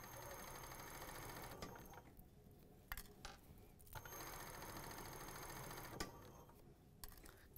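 A sewing machine stitches a stretch T-shirt hem with a steady, close mechanical whir, broken by short pauses and light clicks as the sewing stops and restarts, with no talking.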